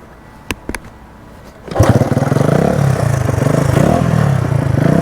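A couple of sharp mechanical clanks from the kick-starter, then a Honda CB125 cafe racer motorcycle engine fires up and settles into a loud, steady idle close by.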